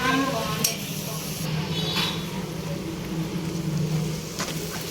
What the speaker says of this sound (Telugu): బాగా కలుపుకొని మూత పెట్టకుండా ఫ్రై చేసుకోవాలి